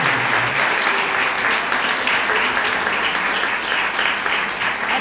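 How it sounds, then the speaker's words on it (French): Audience at a conference on positive thinking giving steady, full applause, a dense wash of clapping that holds for the whole stretch. "je crois que ça mérite quand même un petit applaudissement"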